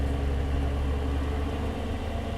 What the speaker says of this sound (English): I'm really loving the sound of this engine.